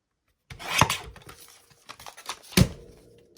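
Paper being trimmed along a straight edge for a collage envelope journal: a dry rubbing, rasping scrape with a couple of sharper bursts, close and fairly quiet, no talking.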